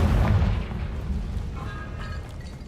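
A Confringo spell explosion in Hogwarts Legacy bursts as a deep, loud boom, then rumbles and decays into a fading, crackling tail.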